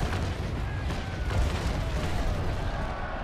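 Ship's cannons fire a broadside at another sailing vessel in the naval battle game Naval Action, a dense rumbling barrage of booms rolling together, loud and continuous with no clear separate shots.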